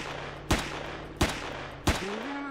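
Three evenly spaced gunshots from the video game Empyrion, each a sharp close bang over a low steady hum, followed by a rising electronic tone.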